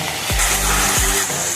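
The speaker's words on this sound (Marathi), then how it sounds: "कढईत तेल घेऊन गवार टाकून घ्यायची कढईमध्ये" Cluster beans hit hot oil in a wok with a brief loud sizzle, with a couple of stirring scrapes over a short stretch and no voices.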